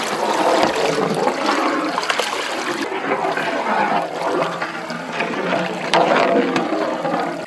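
Boiled water pouring into a large pot of mutton biryani with yogurt, lime juice and masala, cooked outdoors in a village; a steady loud gush and splash that runs throughout, with faint voices behind.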